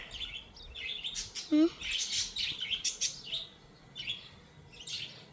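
Bright, high chirps and tweets from several small birds, scattered and fairly close, with a short low vocal sound partway through.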